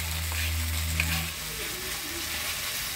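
Ginger-garlic paste, coriander-cumin paste and chilli paste fry with onions in hot oil, a soft continuous sizzle with a low hum early on, fairly quiet and steady.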